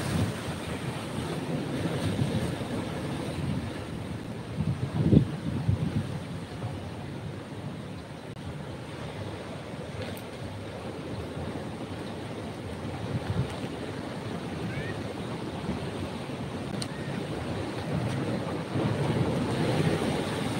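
Ocean waves rolling and breaking at Pangandaran's east beach, a continuous broad wash of surf with occasional louder surges, mixed with wind buffeting the microphone and no talking.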